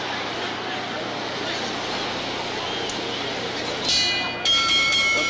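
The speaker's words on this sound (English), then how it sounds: "The bell for round two." A ringside bell sounds near the end, signalling the start of round two in a 1974 heavyweight boxing match, with clear metallic rings over loud, steady arena crowd noise.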